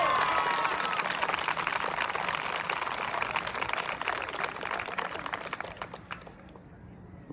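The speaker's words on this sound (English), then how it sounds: "Lots of clapping from the crowd." A crowd claps steadily at a PSA Nationals protection dog sport competition, with dense, fairly loud applause that thins and fades toward the end.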